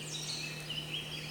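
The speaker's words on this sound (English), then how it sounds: "Some birds." Recorded birdsong plays from a Hatch Baby Rest sound machine, with soft, high chirps and warbles over a faint, steady electronic hum.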